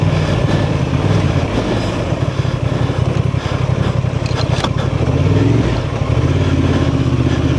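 A 2024 Honda Transalp 750 ridden off-road at an OHV trail area, its engine droning loud and steady with a throbbing low pulse, rough surges and rattles as it rides over bumpy ground, no voices.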